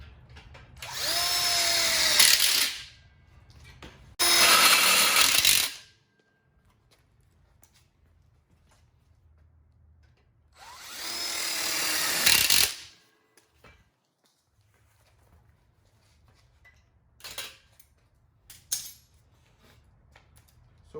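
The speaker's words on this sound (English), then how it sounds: "and we'll screw it in." Power drill driving screws to fasten a tube into a BBQ egg smoker platform: three loud, close whirring bursts of a couple of seconds each, separated by quiet pauses, followed by a few short clicks and taps.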